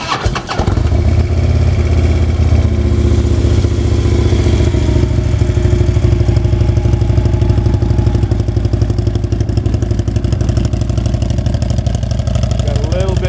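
A 2012 Harley-Davidson Screaming Eagle Road Glide with Fullsac baffles fires up and settles into a loud, throaty, loping idle, heard up close and steady throughout.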